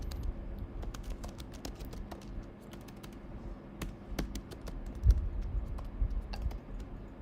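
Fingers type a Google search on a computer keyboard, producing quick, fairly faint close clicks in uneven bursts, with a slightly heavier key tap near the end.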